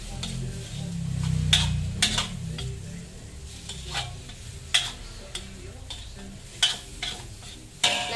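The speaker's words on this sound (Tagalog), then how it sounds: "Lagay na natin tong sibuyas at saka sili." Sliced onion and green chili sizzling in a pan, a steady frying hiss broken by repeated sharp clinks and scrapes of a utensil stirring against the metal.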